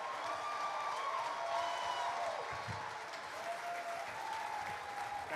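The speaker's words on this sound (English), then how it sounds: "Please join me with a warm applause as we welcome" A conference audience gives a warm round of applause to welcome a business speaker on stage, with steady, even clapping that holds throughout and faint cheering mixed in.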